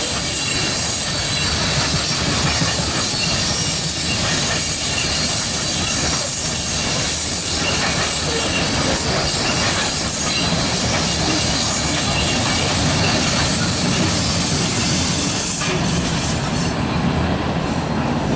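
A CSX loaded coal freight train passing on the tracks, a loud continuous rumble and roar of wagons rolling close by for the whole stretch, with hissing, wheel squeal and faint clickety-clack, no voices.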